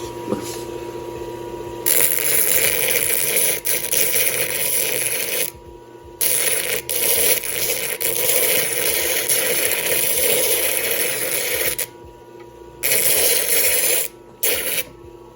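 An 80-grit wheel spinning at around 1,000 RPM grinds a rough malachite chrysocolla stone, producing loud gritty bursts of abrasive rasping as the stone is pressed on and lifted off, with short quieter gaps between contacts and a machine hum underneath.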